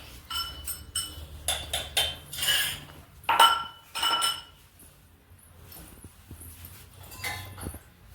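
Metal puja plates, bowls and spoons handled and set down, bright clinks and rattles coming in irregular clusters close by, with quiet gaps between.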